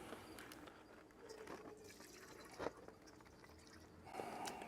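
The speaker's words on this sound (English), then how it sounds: "all I'm going to do from here is pour this juice into this" Brisket juice pours into a bowl as a quiet liquid trickle and dribble, faint and close, with a louder splash of flow near the end.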